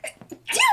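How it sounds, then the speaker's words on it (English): A single loud sneeze after a couple of small breathy catches, close and sharp, ending with a bright rising-falling vocal burst. "I might be sneezing soon."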